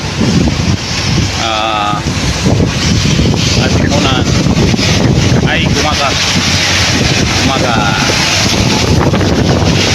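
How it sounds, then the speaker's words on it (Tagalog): Strong waves and gusting wind batter a boat at sea during a storm off Gumaca, Quezon, a loud continuous roar with wind buffeting the microphone while someone speaks briefly over it. "malakas ang alon dito. Sabado at bagyo rito"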